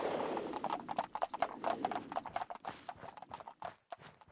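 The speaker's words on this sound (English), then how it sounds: "are these mutated horses?" Hooves clip-clop rapidly on hard ground in Fallout: London, several horses trotting close by in an uneven, busy patter, with a faint whinny early on.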